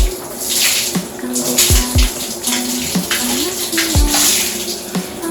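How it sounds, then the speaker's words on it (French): Water runs steadily through long, soft, kinky hair as fingers work grease out during a wash, a close, continuous splashing pour with a few small thumps and drips. "J'accompagne l'eau avec mes doigts pour désincruster vraiment la graisse dans mes cheveux."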